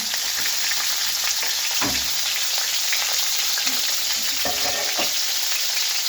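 Chicken sizzles in a pan of browned onions, a continuous close, bright frying hiss broken by a few clanks and scrapes of stirring.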